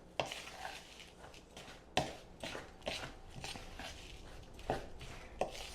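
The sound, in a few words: stirring oats into apple oatmeal cookie dough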